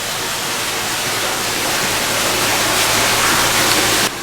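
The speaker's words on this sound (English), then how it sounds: "The waterfall there." An indoor artificial waterfall inside a museum cave gives a steady, fairly loud broadband rush of falling water that cuts off abruptly near the end.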